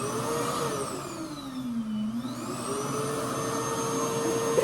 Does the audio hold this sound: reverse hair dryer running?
yes